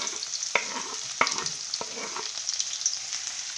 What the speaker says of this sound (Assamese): নহৰু দিম